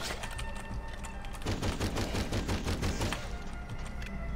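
A spike gun fires in rapid succession in Hedon, a fast rattling burst of loud close shots over a dense, noisy game soundscape.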